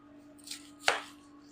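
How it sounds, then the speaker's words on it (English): A knife chops through the core of a cabbage: two sharp cuts, the second louder, against a faint steady hum with no talk. "Then I just chop the core off"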